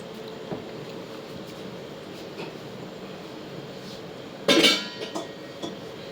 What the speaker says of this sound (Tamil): ஒரு குக்கர் எடுத்து வச்சுக்கிறேன்.